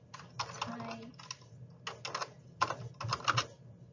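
Bursts of typing on a computer keyboard come in several quick runs of clicks separated by short pauses, close and fairly soft, with a faint background voice.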